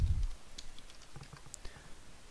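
Several scattered keystrokes on a computer keyboard as website names are typed into a Firefox browser, quiet and close, with a brief thump at the start and no speech.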